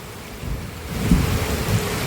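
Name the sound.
heavy rain with thunder in Kanyakumari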